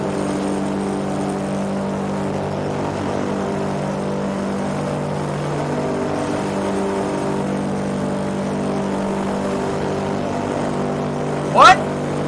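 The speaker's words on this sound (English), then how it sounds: "the air is literally being beaten into submission by those propellers on that thing" Contra-rotating propeller aircraft engine: a steady, droning roar with strong low harmonic hum sustained throughout, fairly loud, ending with a brief sharp rising sweep near the end.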